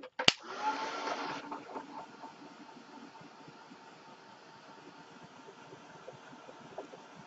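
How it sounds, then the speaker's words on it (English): Heat gun blowing hot air onto handmade background paper coloured with water and alcohol solubles, a sharp click then a strong airy roar that drops after a second into a quieter steady hiss and hum. "let's hit it with the heat gun"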